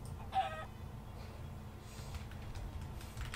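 A single short chicken cluck from the Minecraft video game, brief and clear at the start, followed by quiet low game ambience.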